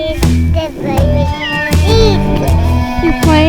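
Several cats meow up close in a rapid series of overlapping calls, some drawn out and rising, with a faint voice now and then in the background.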